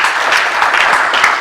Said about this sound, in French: Est-ce qu'on peut applaudir pour Jésus encore?